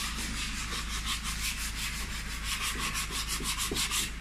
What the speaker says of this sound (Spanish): La lija que me conseguí aquí.